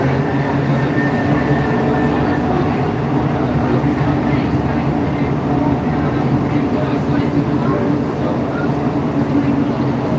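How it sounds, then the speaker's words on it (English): Montreal Metro Orange Line train heading east from Place d'Armes station late at night: a steady, loud rumble and rolling roar of the rubber-tired train underway, continuous throughout. "So this is the Montreal Metro, Place d'Armes station. We're on the Orange Line heading"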